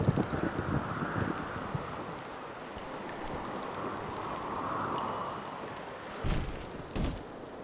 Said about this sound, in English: probably just the wind.